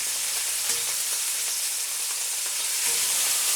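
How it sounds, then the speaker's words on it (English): Thin velveted meat searing in a hot pan, giving a loud, steady close sizzle and hiss throughout, with no talking. "Okay, so searing those off,"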